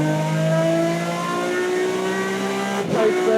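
A BTCC-spec Ford Mondeo front-wheel-drive race car engine screams at high revs, a loud, steady harmonic whine that holds then drops sharply near the end as the driver lifts or shifts.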